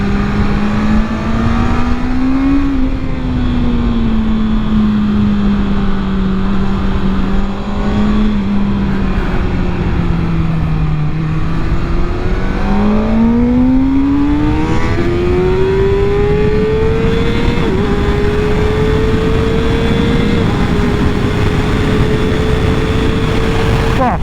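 A 2020 Kawasaki ZX6R sport bike engine revs loudly while riding, its pitch climbing, dipping and rising again through the gears under constant wind rush, with no pauses.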